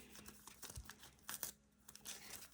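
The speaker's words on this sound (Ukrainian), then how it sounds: "Відкриваємо пакетик Баунті." A plastic Bounty bar wrapper crinkles and tears open in short, soft bursts close by.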